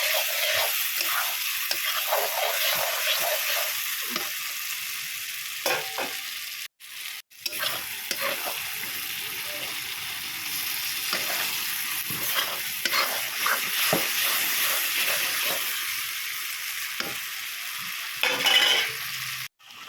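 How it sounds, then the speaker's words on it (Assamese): Onion and tomato fry in a pan, giving a steady loud sizzle throughout, broken by repeated scraping stirs and occasional clinks of a utensil against the pan. "ধুনীয়াকৈ পিঁয়াজটো গলি যোৱালৈকে ভাজিম"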